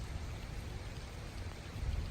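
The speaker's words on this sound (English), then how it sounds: "It's just sprinkling." Light rain sprinkles steadily outdoors near water, a soft even patter that stays faint and continuous with no talking.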